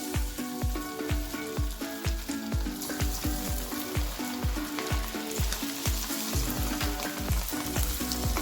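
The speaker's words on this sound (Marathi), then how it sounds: "इथे आपण घरी केलेल्या मसाल्यातले पहिले तळून घेऊ." Chicken tikka coated in homemade masala fries in hot oil, giving a loud, close, steady sizzle with rapid crackling pops throughout.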